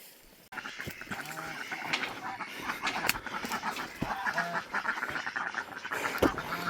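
Ducks at a farm pond quack repeatedly in a noisy flock, with overlapping calls and splashing throughout; no one speaks.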